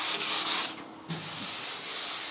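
Close, steady rubbing of sandpaper by hand across a painted surface on a David Brown 990 tractor, with a brief pause partway through before the scraping resumes.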